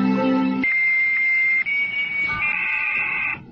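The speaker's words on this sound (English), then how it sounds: "Newscaster explains the modem sound." A dial-up modem from a 1993 internet news report connects: a short dial tone gives way to sustained high carrier whistles and shifting handshake tones, loud and close, with no talking.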